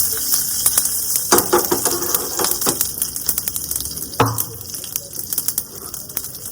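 Mustard seeds, cumin and curry leaves sizzle in hot oil for bhindi fry, a close, busy crackle with sharp pops and spatters that burst louder partway through, then settle into steady frying.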